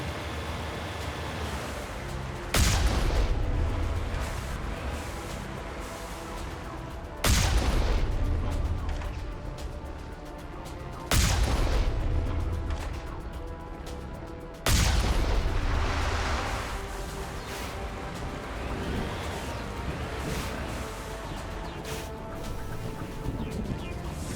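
Heavy artillery fire in the Mass Effect video game during a beach landing on Virmire, four loud booming blasts at irregular intervals, each followed by a long rumbling decay over continuous surf-like background noise.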